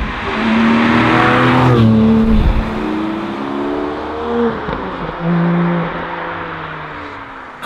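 Porsche Boxster mid-engine convertible sports car accelerating hard, its engine note rising through gears with rev drops between shifts, loud and close, no talking.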